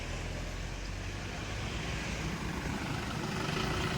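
Steady road traffic of cars, trucks and buses heading to the Anganewadi fair, a continuous dense roadway rumble with no single vehicle standing out and no voices.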